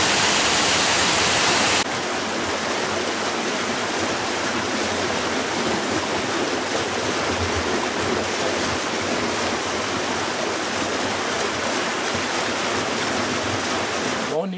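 Spring water gushes from a small water source at an eco-tourism site in Lonoy, making a continuous loud rushing splash that starts with a brief burst and then settles into a steady flow, with no talk over it.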